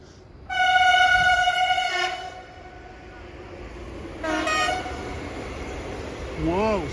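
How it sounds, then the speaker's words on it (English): A Sapsan high-speed train on the St Petersburg–Moscow line near Lyuban sounds a long, loud two-tone horn, a second shorter blast a few seconds later, and a brief rising toot at the end, with a voice talking in between. "Nowadays, the fastest train in Russia, Sapsan."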